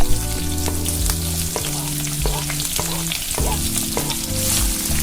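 Onion, green chili and ginger fry with urad dal in a pan for a masala dosa filling, a steady loud sizzle broken by repeated stirring scrapes and clinks, with no voices.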